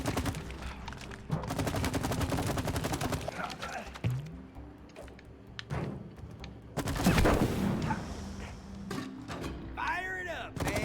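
A goop gun fires in the video game It Takes Two, with bursts of rapid gunfire-like shots spread through the clip amid game effects and players talking over the action.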